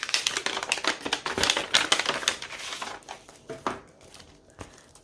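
A planner sticker kit's bag being opened up close: crisp crinkling and rustling plastic in quick bursts, busy at first and then thinning to sparse rustles.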